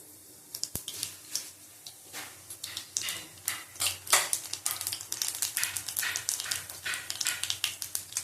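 Nigella seeds drop into hot oil in a pan and crackle and sputter in a dense run of quick pops that grows busier, close and fairly loud with no talking.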